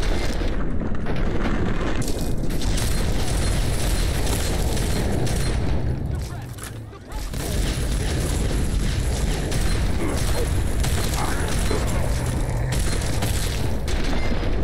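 Dense, loud rolling booms and bursts of gunfire fill a Fallout 3 battle against a behemoth, dropping briefly midway before the barrage resumes.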